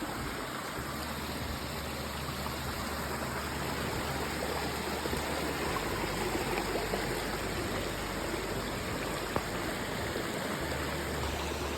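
A forest stream, the Kuru Ela on the Deraniyagala Udamaliboda forest trail, flows with a steady, even rushing hiss of water, constant and fairly close, with no talking.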